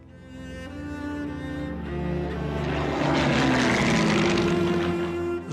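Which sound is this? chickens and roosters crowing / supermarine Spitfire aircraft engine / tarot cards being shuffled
supermarine Spitfire aircraft engine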